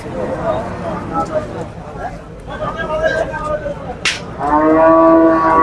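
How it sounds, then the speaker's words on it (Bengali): A dairy cow moos at a busy cattle market, a long loud close bellow rising toward the end over a background of crowd chatter and people talking. "কত সুন্দর একটি গাভী গরু।"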